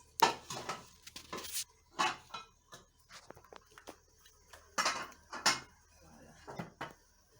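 A cooking pot for onions is handled and set down in a home kitchen, giving several sharp metallic clanks and knocks spread across the moment, with scraping and thuds between them, fairly close and with no talk.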